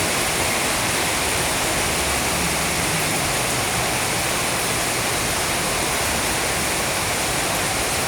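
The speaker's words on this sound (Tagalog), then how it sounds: "Pero maulan siya." Rain falls steadily during a rainy village fiesta, a dense, even hiss that stays loud and unbroken throughout, with no voices over it.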